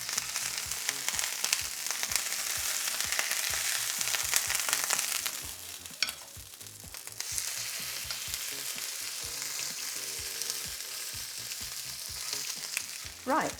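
Chicken pieces fry steadily in a hot pan, a dense close sizzle with frequent sharp spits and pops, a brief shift midway and light utensil stirring, with no talk.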